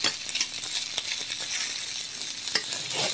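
Vegetarian meat browns in a hot pan with a steady close sizzle and frying crackle, broken by a few stirring scrapes, and no talking.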